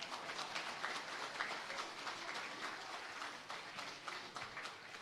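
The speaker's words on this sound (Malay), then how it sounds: "Tepuk tangan lagi." An audience applauds at a political rally, sustained clapping heard faintly at a distance, even and continuous throughout.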